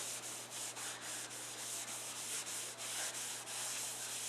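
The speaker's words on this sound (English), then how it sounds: "make sure you take off all of the excess oil" Paper towels rub briskly back and forth across oiled hardwood, wiping excess Osmo hardwax oil off a repaired scratch, a continuous close scrubbing hiss with a rhythmic pulse of strokes over a low steady hum.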